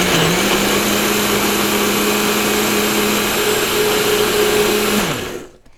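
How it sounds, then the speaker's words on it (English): A NutriBullet blender mixes keto waffle batter with a loud, steady motor whir that holds for about five seconds, then quickly spins down to silence. "So here comes some noise. I'm going to do this in the NutriBullet and see how it mixes."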